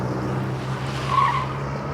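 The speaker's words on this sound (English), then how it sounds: "You hear these cars screeching their tires." Cars screeching their tires out on a road, a brief tire squeal rising over steady traffic and road noise, heard from a short distance.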